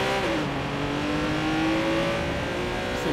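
A sporty supercar engine, a Lamborghini-Ferrari-R8 hybrid in Watch Dogs 2, hums steadily at speed with a smooth rising and falling pitch, close and continuous with no talk.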